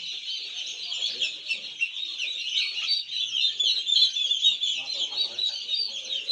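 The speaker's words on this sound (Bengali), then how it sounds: "এখানে প্রায় 1000 টার্কি আছে।" A large flock of about a thousand turkeys at a turkey farm keeps up a dense, continuous chorus of high clucking and gobbling calls, moderately near and without talk.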